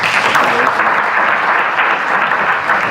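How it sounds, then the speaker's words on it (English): Loud, sustained applause from a conference audience, dense clapping filling the room evenly without a break. "Let's clap for the person that wrote this."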